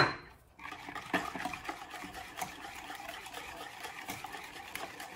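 A spoon scrapes and taps around a bowl while stirring apple cake batter with baking powder, making soft repeated clinks and swishes at close range after a brief louder noise at the start.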